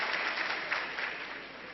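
An audience at an RCM seminar claps together in a brief, fairly soft burst of applause that tapers off, heard alone without speech.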